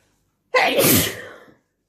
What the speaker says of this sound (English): These are some crazy wet sneezes.